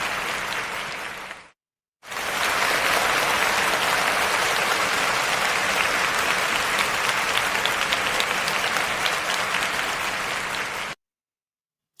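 An audience applauds Savannah James, wife of LeBron James, at an HBCU event, a brief burst of clapping, a short gap, then loud sustained applause for several seconds before cutting off.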